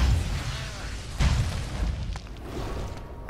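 A bomb blast in the video game Victor Vran: a deep low boom at the start and a second heavy thud a second later, fading into a rumbling tail with faint background sound.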